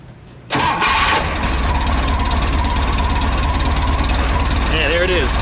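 A Volkswagen Type 3 engine, freshly installed with a 034 SVDA distributor, cranks briefly and then fires into a steady, slightly stumbly idle, close and loud, with a voice speaking near the end.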